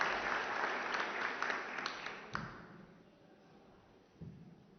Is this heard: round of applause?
yes